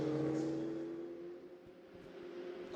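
Ferrari Challenge race cars at the race start at Mugello, engines droning loudly together as a steady, slightly fading roar that stays busy throughout.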